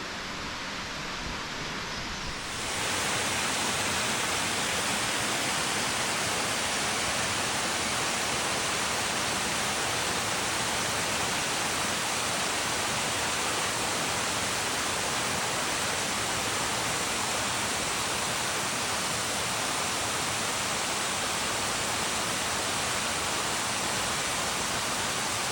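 A waterfall in Pine Creek Gorge roars as a loud, steady broadband rush that swells in after a couple of seconds and then holds unbroken, with no voices.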